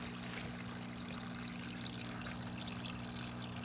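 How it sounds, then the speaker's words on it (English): Water trickles and pours steadily back into a cup in a hydroponic growing system, a faint, continuous flow over a low, steady pump hum, with no talking. "You see the water coming back in your cup?"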